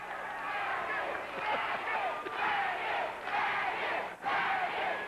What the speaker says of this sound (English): as the crowd takes up the chant